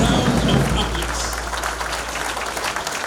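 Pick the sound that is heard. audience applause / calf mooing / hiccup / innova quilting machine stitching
audience applause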